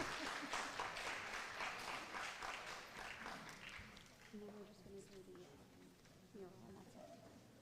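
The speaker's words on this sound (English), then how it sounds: "Let's give them another round of applause for our talented young scholars." An audience at a school board meeting claps in steady applause that gradually thins out, while a voice begins speaking under the fading claps.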